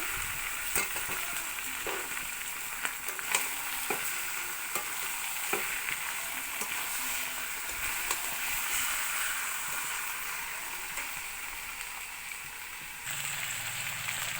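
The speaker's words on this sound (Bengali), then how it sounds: "মশলা কষা হয়ে গেছে, এবার মাংসগুলো ঢেলে দেবো" Chicken pieces frying in cooked spice masala for chicken kasha, a loud continuous sizzle with intermittent clicks and scrapes of stirring, the hiss changing character near the end.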